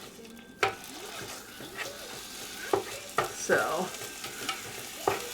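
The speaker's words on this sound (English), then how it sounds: "for the sake of cooking the hamburger meat, I'm just going to use one of my other spatulas just to kind of get it all broke up here" Hamburger meat sizzles in a Ninja Foodi Possible Cooker Pro while a spatula breaks it up, with sharp scraping taps over a steady frying hiss and a brief spoken word.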